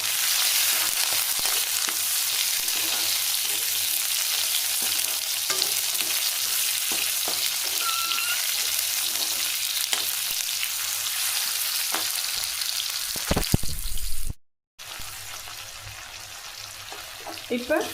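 Tomato sautés in a pan, a steady close sizzle with occasional stirring scrapes, a short clatter and brief dropout near the end, no talk.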